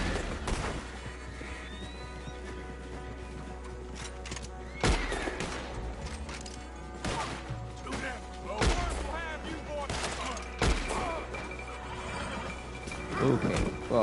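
Gunshots in Red Dead Redemption 2 ring out as a few sharp cracks spaced several seconds apart, loud over a busy game soundscape with steady background rumble and ambient effects.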